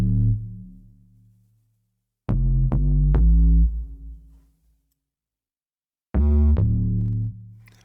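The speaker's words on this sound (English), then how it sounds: "And so the bass sounds like this." Harsh, gritty synth bass treated with reverb, chorus, distortion and bit crushing, playing loud sustained notes: a decaying tone, then a burst of three rapid stabs held long, a pause and another loud sustained phrase, with a long reverberant tail.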